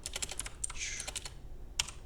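Rapid clicking of computer keyboard keys as someone types HTML code, a busy cluster of keystrokes with a brief pause and one sharp final tap, close and moderately loud over a low background hum.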